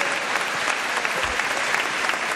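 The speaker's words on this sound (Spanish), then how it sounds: "un fuerte, fuerte aplauso para ellos, los homenajeados" Warm applause from an audience honouring elderly residents of Cabezón de la Sal on a Spanish television programme, a dense, continuous burst of many hands clapping loudly and evenly throughout, with a faint voice underneath.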